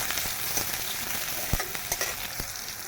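Onions fry in hot oil with a soft, steady sizzle and a few light stirring knocks.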